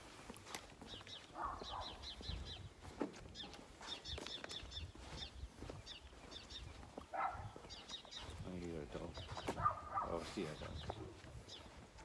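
Small birds chirp in quick repeated bursts outdoors, with some voices and background rustling mixed in.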